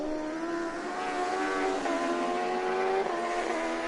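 Screaming high-revving engines of Honda road race machines battling at Motegi during an All Japan Road Race Championship round, a continuous loud whine with shifting pitch as the bikes accelerate and change gear.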